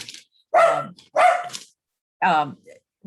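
A dog barks at a neighbor, giving three separate loud, close barks with pauses between them and talk nearby.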